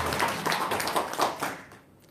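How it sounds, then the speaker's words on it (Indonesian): A small audience claps at an outdoor gathering of women nasi kuning sellers, a short burst of scattered hand claps close by that tapers off and fades after about a second and a half. "Tepuk tangan dulu dong."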